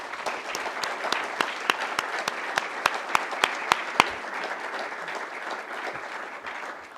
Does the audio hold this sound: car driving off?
no